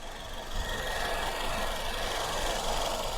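A Maruti Ertiga's engine runs at a steady idle, giving a low, even hum with a faint rattle, fairly quiet and alone with no voices.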